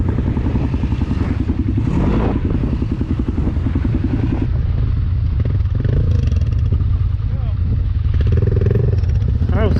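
RZR HighLifter side-by-side engine revving hard outdoors, a loud continuous rumbling drone with surging throttle and rattling clatter, voices talking over it throughout.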